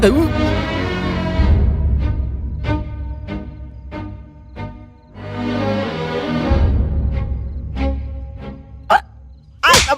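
Hiccups break up a film scene, a few short sharp catches popping out between stretches of talking and ending in two louder jolts.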